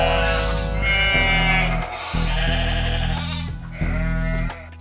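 Sheep bleating sound effect: several loud, wavering bleats follow one another in quick succession, with no talk.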